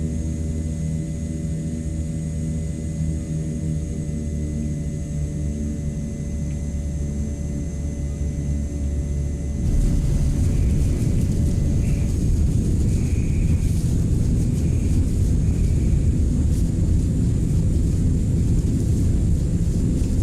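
Propeller engines of a CL-415 water bomber in Microsoft Flight Simulator 2024, a steady droning hum that swells into a louder, rougher roar midway through and holds there.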